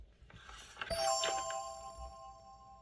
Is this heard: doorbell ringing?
yes